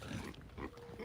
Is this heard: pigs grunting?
yes